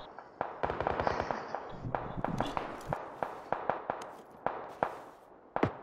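Scattered gunfire in PUBG on the Sanhok map: clusters of sharp, snappy shots and then irregularly spaced single cracks, mostly moderately distant.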